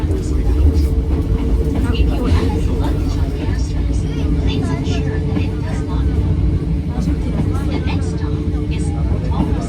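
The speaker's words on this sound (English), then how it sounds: "It's like a really slow train." A slow switchback train climbs toward Hakone, giving a steady low rumble and rattling heard from inside the carriage, with people talking over it throughout.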